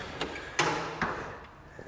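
A shop's man door is unlocked and opened, giving a few faint, sharp clicks and a soft latch knock spaced across a quiet moment in a newly built 24x30x12 shop.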